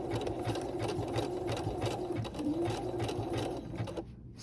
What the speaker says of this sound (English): to put our fabric under the machine. And we are going to zigzag